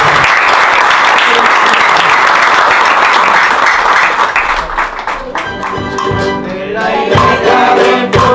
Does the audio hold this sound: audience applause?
yes